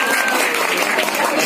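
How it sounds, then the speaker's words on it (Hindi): An audience claps in a dense, continuous burst of applause that fills the short stretch, fairly close and loud. "इसके लिए भी जोरदार ताली होनी चाहिए।"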